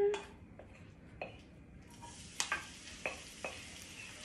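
Batter-coated vegetables laid into a hot pan for scallion pancakes, a soft sizzle with scattered clicks and light scrapes of stirring, fairly quiet and close.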